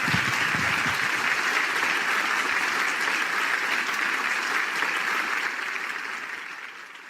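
An audience applauding a blessed couple at a youth blessing festival, a dense steady clapping that fills the hall and fades toward the end.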